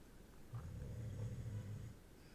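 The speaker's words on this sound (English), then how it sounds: "Sorry about the snoring, people." A low, rumbling snore from a dog, one drawn-out breath, faint and steady with a soft hum of background noise.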